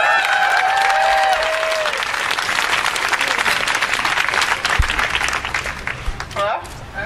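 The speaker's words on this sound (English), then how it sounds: "So let's give her a round of applause," Crowd applause and clapping at an outdoor march for rivers, sustained across the whole stretch, with cheering voices rising over it early on and the clapping thinning toward the end.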